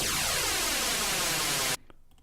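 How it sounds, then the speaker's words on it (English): A loud, hissing wash of white noise from the Operator synthesizer in Ableton Live, with a sweeping, phasey filter movement, cut off abruptly after about two seconds. "you can get that kind of whooshing sound. So that's white noise."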